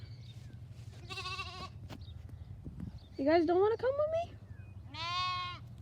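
Sheep and lambs on a farm bleat in several distinct wavering calls, fairly close, with a quiet background hum and a person talking in between.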